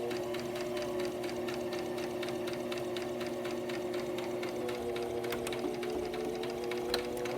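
A sewing machine stitches a seam on a zippered pouch, a steady rapid mechanical rhythm with a constant motor hum, running close and uninterrupted.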